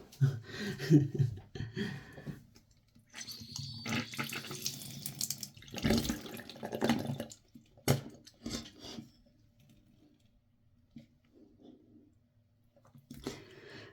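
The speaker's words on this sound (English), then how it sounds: "you'll hear the water go through my nose" A nasal rinse sends water sloshing and pouring through the nose over a sink, in uneven splashy bursts with brief pauses, close and fairly loud, with no talking.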